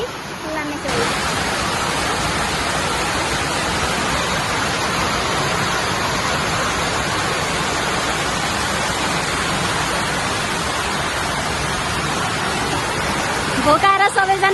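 Water at a waterfall rushes in a loud, steady, hissing roar that fills the whole span without a break.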